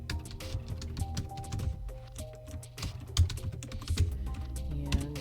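Fingers type on a computer keyboard in quick irregular bursts of close, crisp key taps, with a few heavier thunks and short pauses between words, and no talking.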